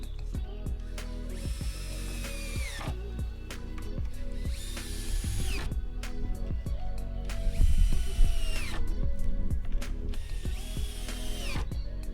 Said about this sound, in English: I'm just attaching these through into that center frame support with wood screws